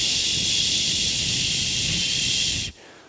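A voice imitates the hiss of fire with a long, steady 'sh' sound, held loud and close for nearly three seconds before cutting off abruptly.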